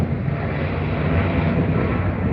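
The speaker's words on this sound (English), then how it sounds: "An almost textbook takeoff" A jet airliner taking off at Heathrow Airport roars loud and close, a steady broadband engine rumble holding without a break and with no voices over it.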